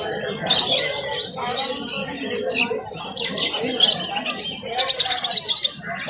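Lively, dense chirping and squawking from a group of lovebirds nearby at a pet bird market in Naihati, Kolkata, continuous and overlapping.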